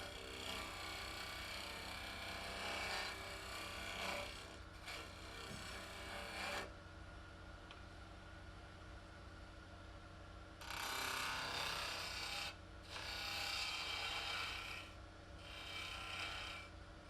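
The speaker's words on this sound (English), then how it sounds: "This is a little 1-inch wide scraper that I find very useful." A 1-inch wide hand scraper rasps along the taper of a wooden table leg in bursts of dry, close strokes, separated by brief pauses.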